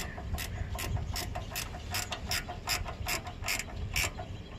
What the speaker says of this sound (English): So again, I'm tightening up the bolt.